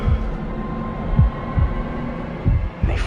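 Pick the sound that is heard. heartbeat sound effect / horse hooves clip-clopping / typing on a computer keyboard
heartbeat sound effect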